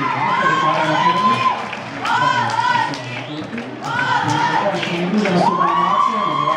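At a dance festival award ceremony, a crowd cheers loudly with whoops, shouts and children's voices over scattered clapping, in two or three swelling waves that fill the hall for the whole stretch.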